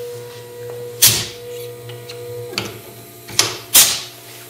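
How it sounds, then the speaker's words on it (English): A pneumatic tool changer on a knifemaking machine, where a cylinder lifts the tool: a few sharp hissing, clunking bursts over a steady motor hum, with quieter mechanical clicks between them. "Here's my new tool changer, pneumatic cylinder, brackets and stuff."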